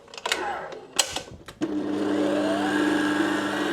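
A stand mixer whisks egg whites at high speed. A few clanks and knocks come first, then a loud, steady motor whir takes over and runs to the end.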